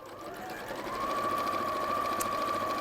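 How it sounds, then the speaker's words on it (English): A sewing machine runs steadily close up as it stitches around a lining, its motor whine rising slightly in speed after the first second and holding at a constant, even hum. "So let's go down here and just sew all the way around."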